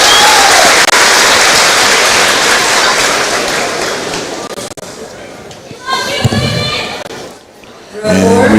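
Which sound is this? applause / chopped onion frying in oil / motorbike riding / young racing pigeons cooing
applause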